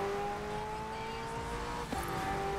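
LEGO car engine in the video game Forza Horizon 4, a steady humming drone with sustained tonal whine, fairly faint, shifting pitch briefly near the end as if changing gear, with no talk.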